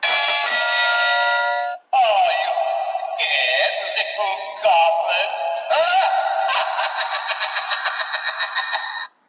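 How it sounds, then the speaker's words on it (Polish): A Halloween-themed electronic doorbell plays a loud, close chiming melody with tonal electronic notes, restarting after a brief pause and running through several repeated phrases. "Halloweenowy dzwonek."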